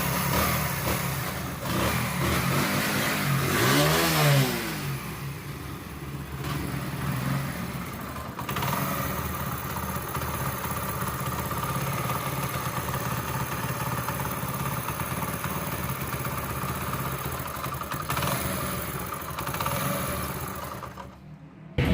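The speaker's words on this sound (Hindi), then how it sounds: "अब फिर मोटरसाइकिल को स्टार्ट करेंगे" A motorcycle, running without its magnet coil, starts up and settles into a steady, continuous engine run for about twenty seconds, loud and close, with no voices.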